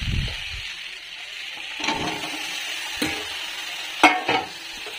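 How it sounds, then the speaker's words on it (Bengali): Potato pieces and vegetable stalks frying in shrimp-flavoured oil in a pan, a steady close sizzle broken by a few louder stirring scrapes and clatters, with no voices. "এখানে ওই চিংড়ি মাছের তেলের মধ্যে আলুটা দিয়ে দিয়েছি। এবার এর মধ্যে আমি ডাঁটাটা দিয়ে দেবো।"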